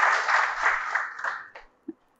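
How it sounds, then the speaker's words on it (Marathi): A college audience applauds the principal at an event at Dr. Ambedkar College, Deekshabhumi, a dense round of clapping that fades out over about a second and a half, followed by a few stray sounds and quiet. "आमच्या प्राचार्य मॅडमसाठी एक जोरदार टाळ्या झाल्या पाहिजे"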